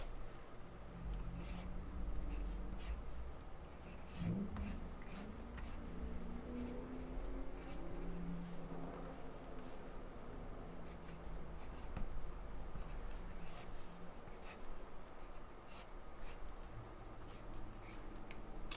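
A dark pencil sketches on paper, giving soft, continuous scratchy strokes with brief pauses. It is quiet and close, with no talking.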